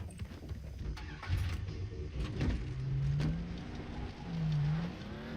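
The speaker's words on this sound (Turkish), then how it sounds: "araba sesi" A car engine in the video game Far Cry 3 hums and rises in pitch, revving a couple of times with a low droning tone, fairly quiet and synthetic.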